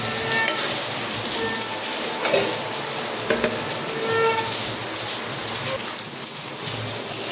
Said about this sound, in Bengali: আলুগুলো হালকা ভেজে নিয়ে ঝিঙেটা দিয়ে দিয়েছি এটা ভালো করে ভাজাভাজি করে নিয়ে